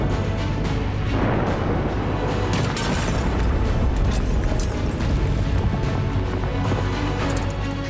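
Israeli bombing in Lebanon gives a dense, loud rumble of explosions and booming blasts that rolls on continuously, with crackling debris and scattered impacts throughout.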